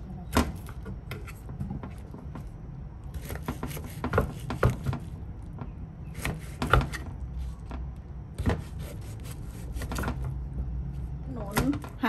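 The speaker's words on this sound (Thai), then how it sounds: "เห็นมั้ยคะเอาไส้มันออกแล้วหั่นเป็นชิ้นๆ" Young jackfruit being cut into pieces on a board after its core is removed, a run of sharp knife chops in irregular bursts with short pauses, moderately close and fairly quiet.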